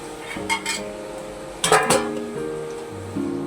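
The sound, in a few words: pot lid being handled on a cooking pot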